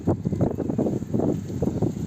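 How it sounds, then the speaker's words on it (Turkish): Gusty wind at the seaside buffets the microphone in uneven low rumbling bursts, rising and falling without pause, with no talking. "Deli gibi rüzgar esiyor."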